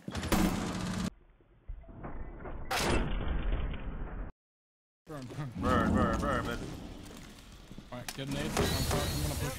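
A door is smashed open in the tactical shooter Rainbow Six Siege, heard as several loud, crashing, splintering bursts broken by short silences, with game noise and a player talking over it.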